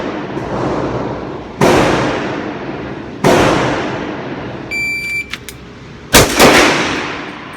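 A Sig Sauer .357 pistol fires three loud, sharp shots several seconds apart, each with a long ringing decay, and a few brief electronic beeps sound between the second and third shots.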